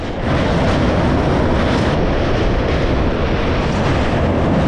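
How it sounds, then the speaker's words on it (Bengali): Steady, loud rumbling roar of the Dhauli Express rolling across the wide Baitarani River bridge, continuous broadband noise with no voices. "আমাদের ট্রেনটা এখন বৈতারানী নদীর ওপর দিয়ে যাচ্ছে।"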